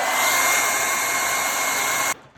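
Hair dryer blowing steadily at close range to dry a watercolor painting of a snowy night sky, a loud continuous hiss that cuts off abruptly near the end.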